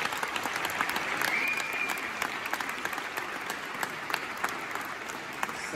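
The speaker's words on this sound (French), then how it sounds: "j'aimerais qu'on s'applaudisse tout le monde." A crowd claps together in a broad, steady wash of applause that holds at a fairly even level from start to finish.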